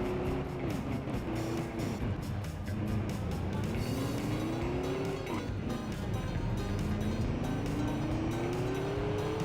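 Cars overtaking in a racing video game, heard as a loud, steady engine drone with rising and falling revving tones over a constant noisy background.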